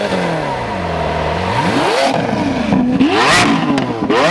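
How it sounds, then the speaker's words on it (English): A Lamborghini Centenario Roadster revving hard at close range, its engine note swooping up and down through repeated throttle blips and rising wails, loud and continuous with no talking. "He's gonna rev it for the viewers."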